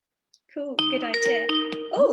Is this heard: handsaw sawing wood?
no